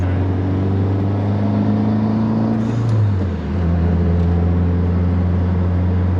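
A turbocharged Honda Jazz GK engine revs steadily on a dyno, its drone holding then sagging as the load changes before climbing again, with a faint high turbo whistle riding above; close and loud, no talking.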